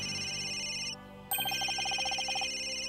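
Cell phones ringing in the Ace Attorney: Dual Destinies video game, a bright electronic ringtone that pauses briefly and then resumes as a rapid, repeating trill, clear and prominent with no speech.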